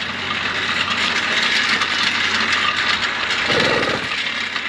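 Bicycle engine built from a DIY motor conversion kit, a loud steady droning hum with a brief rougher surge near the end as the clutch is let out.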